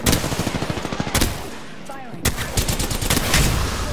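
Rapid automatic gunfire in Apex Legends, loud close bursts of rattling shots that stop for about a second, then resume in dense volleys.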